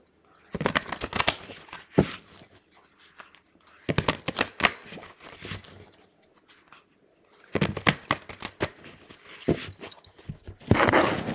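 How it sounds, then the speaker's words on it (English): Cards are riffle-shuffled three times in quick, crisp bursts, with pauses of quiet handling between them, recorded up close. "Give these a real good ruffle shuffle"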